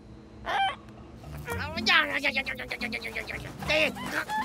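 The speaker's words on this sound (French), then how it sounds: "Mais qu'est-ce qu'une mouette ferait au beau milieu de l'océan, man?" Seagull squawking out over the ocean, with several harsh, honking calls in short bursts close by, mixed with a voice talking.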